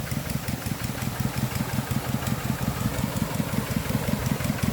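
An engine drives a water pump with a steady, loud, close rhythmic chugging that throbs evenly throughout, alone with no voices.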